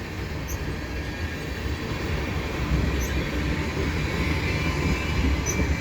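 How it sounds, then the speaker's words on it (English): A general manifest freight train rumbles steadily past beneath highway ramps near a rail yard, a low continuous roll of wheels on rails with faint high squeals now and then, no voices. "the train is rolling underneath these ramps"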